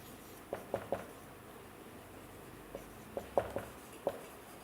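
Chalk or marker writing on a board during an English grammar lecture on nouns, a few faint short taps and strokes in small clusters against a quiet room.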